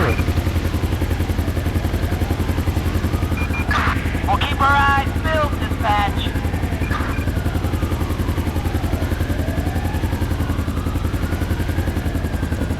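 Police helicopter in GTA 5 with the LSPDFR mod, a steady rotor and engine drone running throughout over low rumble, with brief clattering and tonal game sounds in the middle and a voice speaking over it.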